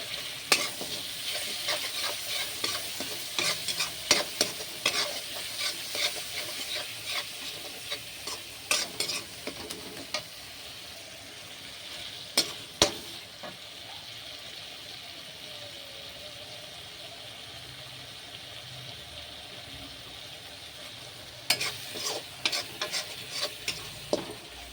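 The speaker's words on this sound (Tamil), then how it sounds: "வெங்காயம் வதக்கிச்சு அதுக்கப்புறம் அரைச்சி வச்சுக்கிறோம்ல அது ஊற்றுறோம்" Ground onion and chili paste frying in a pan, with steady sizzling and repeated clattering stirs, some louder scraping bursts near the start and end, no voices.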